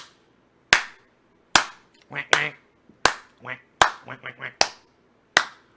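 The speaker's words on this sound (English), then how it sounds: "Slow clap for Susan!" Loud, deliberate single hand claps ring out at a slow, steady pace, about one each second. Short bursts of voices talking fill the gaps between the claps.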